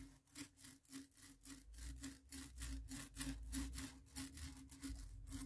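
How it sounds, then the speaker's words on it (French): Paint roller spreading Simplicité Mat paint, giving a steady rhythmic crunching, rasping sound with quick regular strokes, close and fairly quiet, with no talking. "vous entendez le cruc, cruc, cruc. C'est l'accroche de la peinture."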